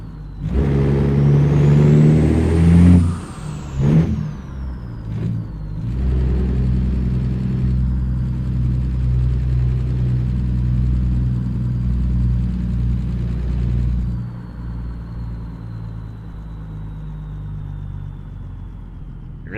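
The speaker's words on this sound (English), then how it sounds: "You really hear that little turbo whine too" Big rig with a long, lowered custom chassis in American Truck Simulator, a steady engine rumble with a high, thin turbo whine rising and falling over it, air brake hiss near the start, no talking.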